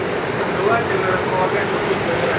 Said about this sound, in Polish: no i jest morze